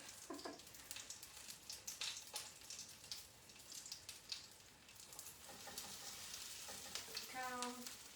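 Battered shrimp frying in oil in a pan, a steady soft sizzle and crackle running throughout, with brief stirring clinks and bursts of louder spattering near the end.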